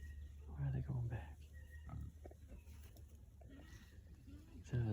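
Pasture-raised pigs grunting outdoors, a few low, close grunts and snorts scattered through soft background noise, with a person talking in between.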